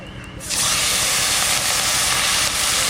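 Small mixed river fish dropped into hot oil, breaking into a loud, steady, sizzling hiss after a quieter opening moment and holding close and even to the end.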